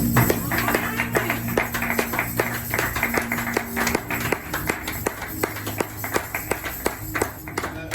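A church congregation claps steadily in a rhythmic beat to acclaim the word of God, with sustained tones and faint voices singing or speaking beneath the evenly spaced claps.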